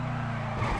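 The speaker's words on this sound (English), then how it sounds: "It sounds nice. The engine sounds nice." Engine of a Karin Boor car driven in GTA Online, a steady low idle-like drone running close and moderately loud for under a second, with a slight swell near the end.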